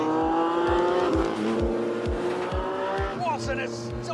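A Lamborghini Countach racing from a rolling start, its engine roaring loud and close as it accelerates hard, with a steady rhythmic pulsing and rising pitch toward the end.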